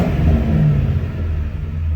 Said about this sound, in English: I'll rev it up for you.